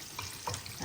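Food fries gently in a kitchen pan, a soft, brief crackle and sizzle with small pops, moderately quiet and heard on its own without talk.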